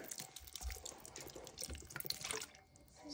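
Soy sauce pouring into a pot of fish paksiw, a soft continuous liquid trickle and splash heard up close with no talking.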